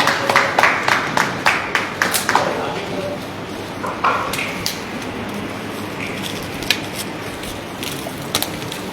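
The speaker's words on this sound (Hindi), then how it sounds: "ताली बजा करके जरा एक बार" Scattered audience clapping at a book launch event, a quick run of sharp individual claps at first that thins into sparse, uneven hand claps, fairly close.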